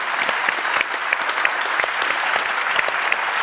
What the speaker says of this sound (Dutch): Ik wil eerst een heel hartelijk applaus voor Ronald van Raak.